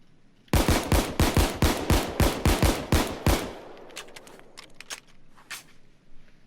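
About ten rapid, evenly spaced M1911 Crosskill pistol shots ring out in quick succession in the video game Payday 2, loud and sharp, followed by quieter mechanical clicks and rattles.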